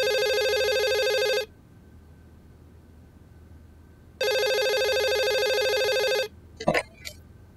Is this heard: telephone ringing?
yes